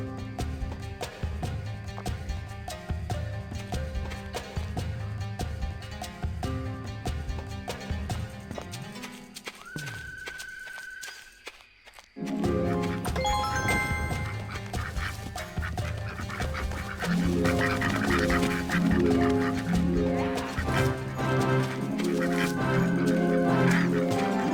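Geese herded into a pen in the Disney Princess: Enchanted Journey PS2 game, with cartoon honks and quacks over steady, busy game music that drops out for a moment midway, then returns louder.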